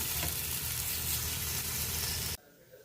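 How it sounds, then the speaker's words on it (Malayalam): Marinated mussels with curry leaves fry in a pan with a loud, dense, steady sizzle that stops abruptly, leaving a quiet room. "കല്ലുമ്മേക്കായ ഇതിലേക്കിട്ട് ഫ്രൈ ചെയ്തെടുക്കാം."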